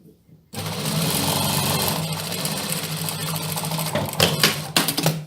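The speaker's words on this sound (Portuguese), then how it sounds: "Então eu vou passando a minha máquina e já vou puxando o meu tecido." A sewing machine runs steadily, stitching fabric for a two-in-one dress, a continuous close motor hum with rapid needle chatter that starts after a brief pause and ends with a few uneven bursts.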